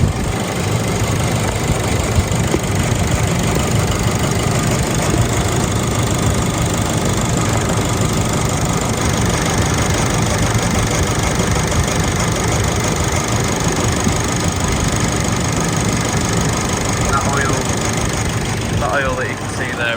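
A Nissan Navara D40 2.5 dCi diesel engine idles steadily throughout, a continuous low rumble with a faint knocking texture, close and fairly loud.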